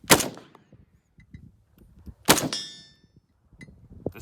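Two sharp, loud gunshots from an Imbel FAL .308 rifle, fired about two seconds apart, each with a crisp crack and a brief ringing decay, quiet rustling between.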